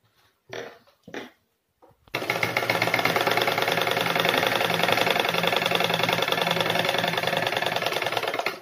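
Stitching a kurta placket, a sewing machine starts after a couple of brief handling sounds and then runs steadily with a fast, even, close-up mechanical rattle.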